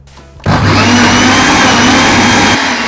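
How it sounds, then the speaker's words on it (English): A blender switches on abruptly and whirs steadily at full power blending tomatoes, a loud, constant motorized roar with churning texture. "Gently place them into this blender"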